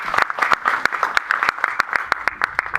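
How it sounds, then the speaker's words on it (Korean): Audience applause at a centennial anniversary ceremony: dense, steady clapping from a crowd with sharp individual claps standing out, sustained throughout at moderate loudness. "박수 한번 부탁드리겠습니다."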